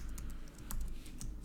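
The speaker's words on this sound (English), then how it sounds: "you might see me do some crazy typing here because this is a very minimalistic environment for me" Rapid keystrokes on a computer keyboard while editing a minimal NeoVim setup, a quick run of light, close clicks with no talking.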